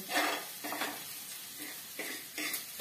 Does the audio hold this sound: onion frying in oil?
yes